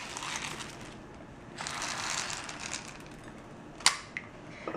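Dry organic non-GMO soybeans pour into a half-cup measuring container in two soft rattling bursts, followed by a few sharp clicks, all faint and close, with no voices.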